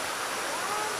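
Water trickles and flows nearby at Ein Gedi, a steady close rushing hiss like a small stream or spring without distinct drops standing out.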